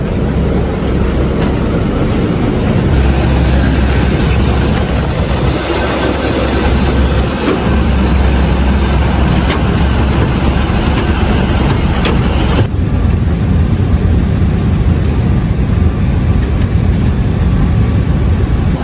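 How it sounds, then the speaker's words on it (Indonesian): A steady, loud engine roar fills an aircraft cabin in flight to Amman, Jordan, a constant broadband drone with no talking, shifting slightly in tone partway through. "kita naik pesawat menuju Amman, Jordania"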